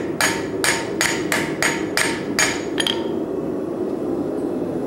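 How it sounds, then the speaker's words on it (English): A hammer strikes metal seven or eight times in a steady, ringing rhythm at a smithing conference demonstration, each sharp blow putting a deep dent in the workpiece, then the last hits fade into a low room murmur. "Watch what happens when the hammer goes into the metal here and puts these relatively deep dents in"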